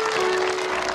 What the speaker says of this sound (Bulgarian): Нека ръкопляскаме на Бога.